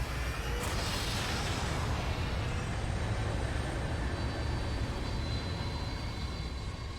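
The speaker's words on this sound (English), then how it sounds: "If the cutscene's just a plane landing, I'm gonna be so sad" A plane landing in a Xenoblade 3 video game cutscene, heard as a continuous broad engine roar with a rising whine early on, steady and fairly loud throughout with no talk.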